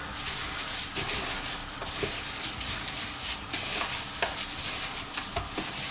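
Raw prawns are stirred in a cornstarch marinade, giving a continuous wet, squelching mixing noise with small clicks, close and moderately loud.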